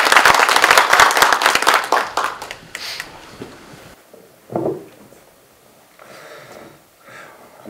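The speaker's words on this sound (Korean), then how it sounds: "큰 박수로 환영해 주시기 바랍니다." Brief applause rings out at a regional resident-autonomy council inauguration ceremony in a cultural centre, with dense clapping that tapers off after a few seconds and leaves quieter room noise and scattered sounds.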